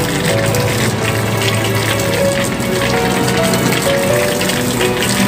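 Water is poured continuously to rinse a kitten, producing a loud, steady gushing and splashing like a running tap that lasts throughout without a break.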